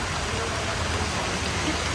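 Dense, steady downpour of heavy monsoon rain in Vadodara, a constant loud hiss of water pouring down with no pause.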